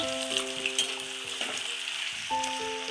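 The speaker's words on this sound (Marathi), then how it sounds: "दोन तीन चमच तेल टाकायचंय बटाटे फ्राय करून घेते पहिले" Potatoes shallow frying in a few spoonfuls of oil give a steady, close sizzle that runs throughout, with a few tonal tones sounding over it and no talking.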